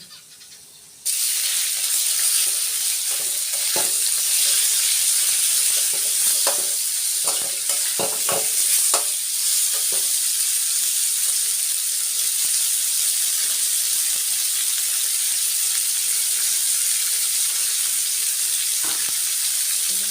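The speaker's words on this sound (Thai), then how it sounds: "ม่ย่กก็จะผัดผักกาดขาวให้หมวยนะคะทุกคน" Pork and napa cabbage stir-frying in a pan, a loud steady sizzle that starts abruptly and holds throughout, with scattered scraping and stirring clicks from a utensil in the first half.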